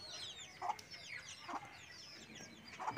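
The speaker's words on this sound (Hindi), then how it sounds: "बहुत ही प्यारा लग रहा है ये मुर्गी के बच्चे" Soft chick chirps and clucks come in short bursts at a moderate distance in a garden courtyard, with light outdoor background noise and no talking.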